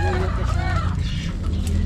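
Chickens cluck close by in a short burst of farmyard noise, with a faint voice murmuring in the background.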